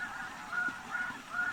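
A low-flying flock of snow geese honks during a spring hunt, several clear nasal calls repeating over a steady outdoor hiss, moderately close.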